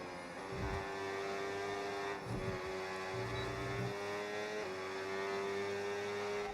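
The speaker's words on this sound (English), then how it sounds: "the car is like sort of bottoming out as we reach the top speed" A steady, droning Audi F1 car engine at top speed in the F1 26 video game at the Australian GP, with a continuous whine and occasional low thumps as the car bottoms out, fairly quiet and unbroken.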